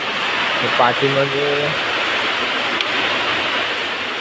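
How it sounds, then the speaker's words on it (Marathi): Heavy rain pours down steadily in a broad, continuous wash of noise outside a workshop where clay idols are made, with a voice speaking briefly over it near the start. "पाऊस पण बघा जोरदार चालूच आहे।"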